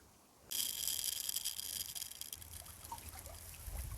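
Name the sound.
flax seeds and debris being poured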